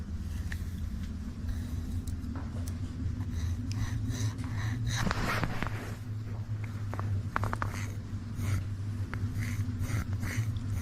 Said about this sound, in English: Y'all hear something breathing?